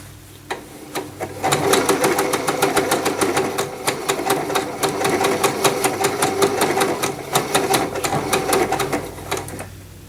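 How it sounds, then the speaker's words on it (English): A sewing machine fitted with presser feet M and G stitches a blind hem in a fast, steady mechanical rattle that runs for nearly ten seconds before stopping, close and clear. "I'm going to wait for it to go on the fabric, and I'm going to hit reverse because then it'll end the stitch for me"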